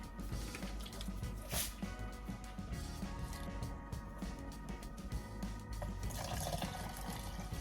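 Water pours and splashes steadily into blended soursop pulp while Jamaican soursop juice is made, a continuous wet trickle close by with no talking.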